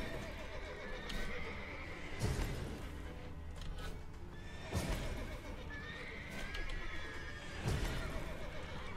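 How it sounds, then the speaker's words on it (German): Horses in The Witcher 3 neigh and whinny repeatedly at fairly regular intervals, with hoof clops and game ambience beneath and little speech. "Ich muss die Pferde beruhigen, bevor sie die Wachen aufwecken."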